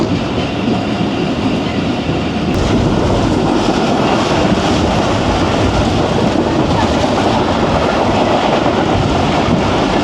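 Jaffar Express train running steadily on rails through the Punjab plains near Kharian, a loud continuous rumble and clatter of wheels with a slight rise in intensity partway through, with no talking.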